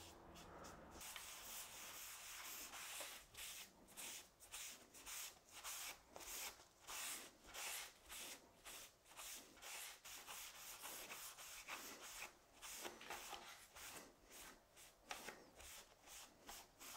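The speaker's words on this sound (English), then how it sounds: "So on goes the mid-oak stain." Mid-oak wood stain is rubbed by hand onto a wooden table, giving close, soft rhythmic swishing strokes that repeat roughly every half second with brief pauses, quiet and free of talk.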